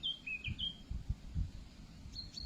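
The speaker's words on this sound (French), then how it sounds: "Être accompagné par le chant des oiseaux." Birds singing outdoors along a walking route, with short bright chirps and whistled phrases at the start and again near the end over a low rumbling background, fairly close and alone without speech.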